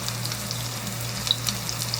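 Spicy hamburger patties fry in a cast-iron pan on a portable burner, a steady soft sizzle with faint popping crackles, heard close with no one talking.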